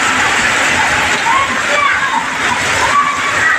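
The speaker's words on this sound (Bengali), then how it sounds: "প্রচণ্ড বৃষ্টি আজকে, এই গরম ছিল, এখন আবার হঠাৎ করে প্রচুর বৃষ্টি নেমে গেল।" Heavy sudden rain pouring on a roadside in Kazipura, Gazaria, a steady dense broadband hiss with splashing water that stays loud and continuous throughout, with no clear speech over it.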